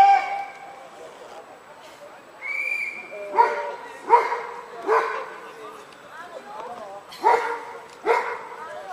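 A dog at an Occupy camp eviction barks in a series of sharp, close yaps and short whimpering calls at irregular intervals, with a faint whistle-like tone early on and no clear speech.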